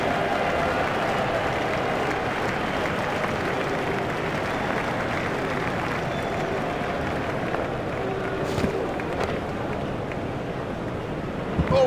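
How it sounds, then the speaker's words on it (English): A cricket crowd in a stadium applauds a batter reaching a half-century in an England match, with a steady wash of distant clapping and cheering that holds across the whole stretch. "He deserves the applaud from the crowd today."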